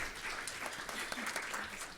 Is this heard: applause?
yes